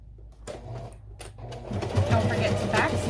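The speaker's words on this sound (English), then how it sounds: "we are going to sew 3/8 inch along every" A sewing machine stitches a 3/8 inch seam along the long edge of a fabric pouch, running steadily and building louder toward the end, with a little handling noise at the start.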